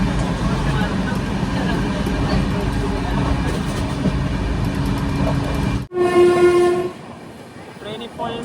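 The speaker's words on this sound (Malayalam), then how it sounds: "ട്രെയിൻ ഇപ്പോൾ സമൽകോട്ട് ജംഗ്ഷനിലേക്ക് ഇതാ എത്തി" A Humsafar Express pulling into Samalkot Junction rumbles loudly for several seconds, then a sharp, tonal horn blast sounds near and loud before fading under the lower rolling noise.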